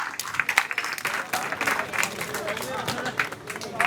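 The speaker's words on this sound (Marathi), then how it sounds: "या छोट्या आंदोलनकर्त्यासाठी आपण जोरदार टाळ्या वाजवल्या पाहिजे." A crowd at an outdoor protest in Saphale applauds a young protester, with dense, sustained clapping and cheering filling the whole stretch amid general crowd noise.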